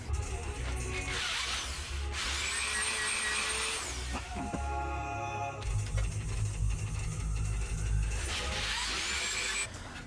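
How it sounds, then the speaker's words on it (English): Several bursts of a drill whining through the wood of an amp cabinet, each run a few seconds long with pauses between, fairly faint and close. "I drilled 4 holes in this amp here"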